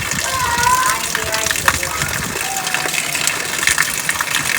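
Water gushes steadily through a broken earthen embankment between farm fields, flooding from one field into the next. The rushing is continuous and fairly loud, with faint voices in the background.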